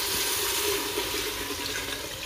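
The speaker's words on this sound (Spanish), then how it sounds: "Vamos a echar el agua." Cold tap water pours steadily into a cooking pot in a home kitchen, a continuous rushing, splashing stream heard close and alone.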